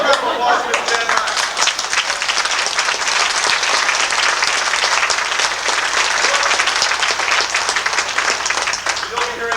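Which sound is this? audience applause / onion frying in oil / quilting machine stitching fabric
audience applause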